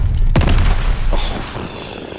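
A tank shell explodes in the shooter game Call of Duty: Vanguard: one sudden, loud boom that rolls off into a lingering rumble and noisy tail.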